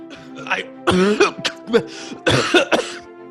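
Several throaty coughs and throat-clearing bursts come in short irregular clusters, fairly close and loud, with brief pauses between them.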